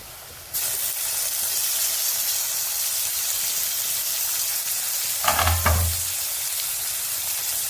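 Tomatoes are dropped into frying onions in a pan for kurdayachi bhaji, and the sizzle jumps to a loud, steady hiss. Midway a brief clatter and thump from stirring rises over the frying, which stays close and continuous.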